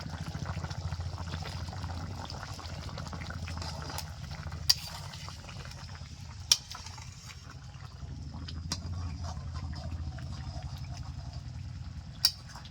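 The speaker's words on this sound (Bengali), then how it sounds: "ঝোল টকবক করে ফুটছে" Chicken curry gravy simmers at a steady boil in a pot, a continuous low bubbling with a few sharp clicks from a utensil over the top.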